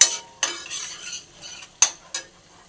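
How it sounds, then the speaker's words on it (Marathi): Thick masala gravy stir-fried in a kadhai until the oil separates, with a few distinct scraping strokes of a spoon against the pan over a soft, low sizzle, close and fairly quiet, with no talking. "ही ग्रेव्ही आता छान परतून झालेली आहे."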